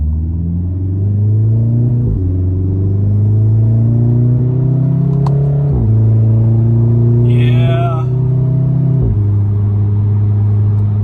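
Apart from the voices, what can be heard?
loud sport car exhaust revving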